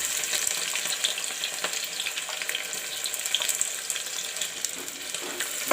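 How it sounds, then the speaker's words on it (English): Chopped onions fry in a pan for a spinach and chana dal dish, crackling and sizzling steadily at close range with small popping bursts throughout. "Friends, now I will put in the cut up onions."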